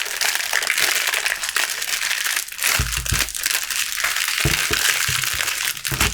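Crinkly plastic packaging is pulled off a set of puzzle cubes, giving loud close crumpling and crackling that goes on without a break, with a few heavier thumps of handling mixed in.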